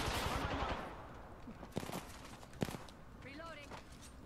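Scattered gunfire in the video game Apex Legends, a few sharp single shots standing out amid a busy, moderate-level mix, while voices talk over the action.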